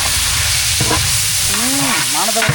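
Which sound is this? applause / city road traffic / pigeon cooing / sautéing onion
sautéing onion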